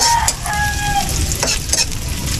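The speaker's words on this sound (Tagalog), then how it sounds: "Yan, lutuin po natin ang sibuyas." Onions fry in a pan with a steady, loud sizzle, with a few stirring scrapes and clinks over the constant crackle and no talking.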